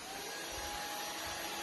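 A Roomba robot vacuum cleaner runs with a steady, even whir and hiss throughout, close and fairly quiet, with no talk over it.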